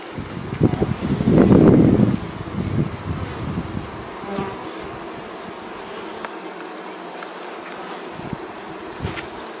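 Honeybees buzzing inside a hive, a close, loud swell of humming early on that thins into a fainter, steady drone with light rustling.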